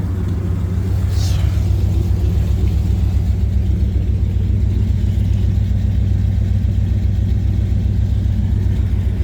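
A 1999 Dodge Durango Shelby SP360 V8 running at a steady idle, with a deep, loud, even rumble and a brief high whine near the start, heard close up with no talking.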